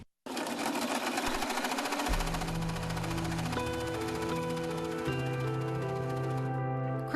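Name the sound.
sewing machine stitching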